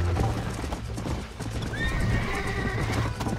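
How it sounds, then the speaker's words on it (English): In the Red Dead Redemption video game, a horse gallops with rapid, rhythmic hoofbeats and lets out a whinny partway through, close and loud, with a faint voice in the background. "É tão bom você correr com um cavalo que pula o obstáculo, cara."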